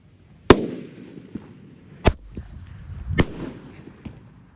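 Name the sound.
mortar firework ("mortar sweet") being set off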